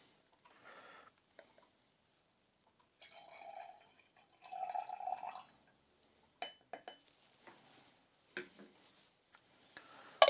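Water trickles into a glass of anise oil for dilution, with quiet pours, soft splashes and scattered drips and clinks in a still room.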